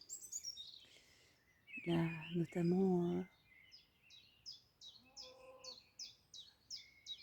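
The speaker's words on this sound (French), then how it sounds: "on entend vraiment qu'il y a des oiseaux là qui se donnent à cœur joie" Birdsong, including a common chiffchaff, rings out in the open: a steady run of repeated high, even chirps follows a brief burst of someone talking, with softer chirps earlier.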